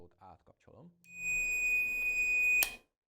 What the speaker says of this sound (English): if you touch two wires together, the multimeter beeps